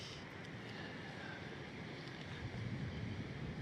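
Steady broadband wind and water wash in a bay on Pico in the Azores, a light breeze rushing continuously with soft lapping underneath, slightly louder toward the end, with no voices.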